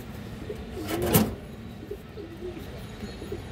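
Pigeons in a loft give a few soft, low coos over a steady background hum, with one louder call near the middle; no one speaks.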